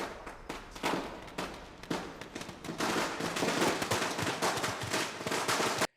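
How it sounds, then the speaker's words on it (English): Firecrackers in a scene from the film 12th Fail crackle in a long, dense volley of sharp bangs and pops, loud and sustained, then cut off abruptly. "in this case, the sound is of the firecrackers"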